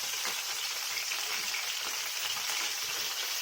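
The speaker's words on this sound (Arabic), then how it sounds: "قلت احمرها كده بمعلقه سمنه، رشيت عليها ملح وفلفل اسود" Leftover cooked meat frying in a spoonful of ghee, seasoned with salt and black pepper, gives a steady, close, crackling sizzle with constant fine popping and no talk over it.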